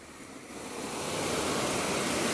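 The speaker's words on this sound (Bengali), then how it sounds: "কি জোরে জোরে দেখুন বৃষ্টি হচ্ছে।" Heavy rain pours down during a windy storm in Karnataka, a steady broadband roar that swells louder through the clip, with no voices.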